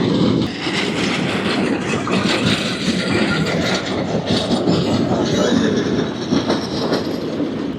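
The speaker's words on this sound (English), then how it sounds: "This is the Hejaz Railway in action." A train on the Hejaz Railway rumbles along the rails nearby, loud and continuous, with rattling wheels and occasional metallic squeals.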